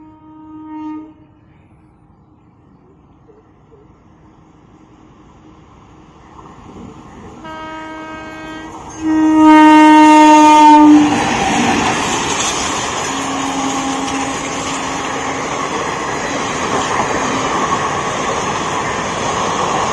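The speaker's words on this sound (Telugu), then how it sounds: "ఇప్పుడు ట్రైన్ని చూసేయండి." A Holi special express train approaches with a long, loud horn blast, then rumbles past close by in a steady roar of wheels and wagons.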